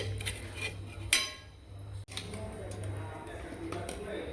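Coriander powder and turmeric get mixed with a spoon for a ridge gourd dish, with light clinks and one sharp tap against the vessel amid soft scraping while someone talks.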